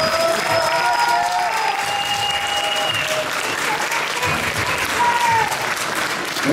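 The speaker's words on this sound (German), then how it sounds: "So, einen großen Applaus für diese Klasse." An audience at an Austrian bodybuilding championship gives sustained, even applause, mixed with a little cheering, while an announcer's voice carries faintly over it.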